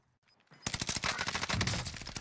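A DP-27 machine gun in Warzone fires a rapid, loud burst of rhythmic shots after a brief quiet start.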